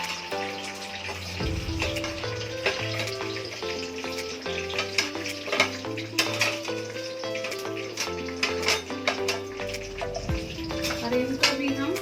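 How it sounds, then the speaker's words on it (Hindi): Dry fruits frying in desi ghee in a kadhai: a continuous sizzle with frequent small pops and clicks, plus a tonal hum underneath, close and steady throughout. "ड्राई फ्रूट हमें ज़्यादा फ्राई नहीं करने हैं, हल्के से फ्राई करने हैं"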